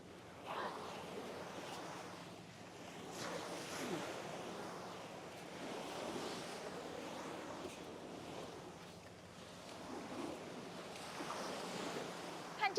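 Sea waves washing onto the beach at East Coast Park, Singapore, a steady surging roar with some wind buffeting the microphone, continuous throughout with gentle swells in loudness.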